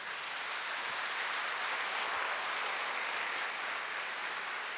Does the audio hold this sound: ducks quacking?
no